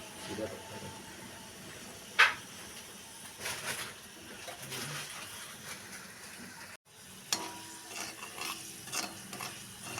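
Jackfruit seeds frying in a pan, soft sizzling with intermittent scraping and stirring of a utensil, close and fairly quiet.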